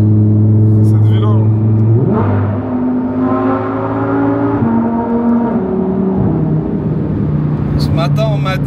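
Lamborghini Huracan Evo engine roaring close up, revving in several rising surges with stepped pitch shifts, loud and sustained throughout, with voices talking over it.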